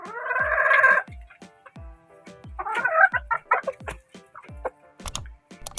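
A rooster crows once, loud and close, followed by a run of short clucks and scattered knocks in the background.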